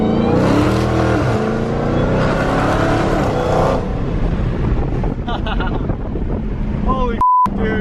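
A Dodge Hellcat, its blown-up engine since repaired, accelerates at quarter throttle with a rising engine note buried under heavy wind buffeting and voices inside the car.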